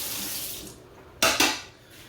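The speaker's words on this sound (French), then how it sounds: "Donc, je vais juste le rincer." Tap water runs briefly over an avocado in a kitchen sink, two short splashing bursts up close following a quieter stretch, with no talk.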